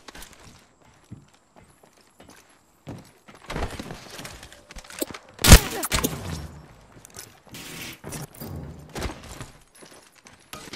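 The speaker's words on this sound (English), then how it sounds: "I'm taking shots." Gunfire in a shooter video game with recharging shields: scattered single shots, then a sharp loud blast near the middle and denser bursts of firing afterwards, with no talking.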